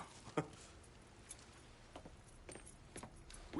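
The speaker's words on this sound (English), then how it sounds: "Hey man, grab those keys." Car keys jingle softly in a few brief, scattered metallic clinks, quiet and close, with no talking.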